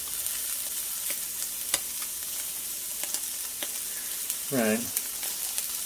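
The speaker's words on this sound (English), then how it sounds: "So these plant-based sausages are cooking a lot slower than they suggested on the packaging" Plant-based sausages frying in a pan, a continuous close sizzle with scattered pops and crackles, briefly overlaid by a short spoken word.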